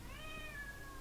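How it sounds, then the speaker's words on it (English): A single drawn-out cat meow rises and falls, faint in the background of a room over low hum. "I apologize for the cat meowing on the background"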